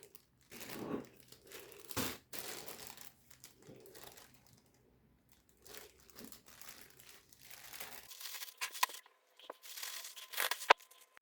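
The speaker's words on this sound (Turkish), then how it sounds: "Şimdi şöyle poşetimizin aldığı kadar poşetlerimize koyuyoruz." Plastic freezer bags crinkle and rustle in bursts while being filled with capia or green peppers for freezing, close and fairly loud, with brief pauses between handlings.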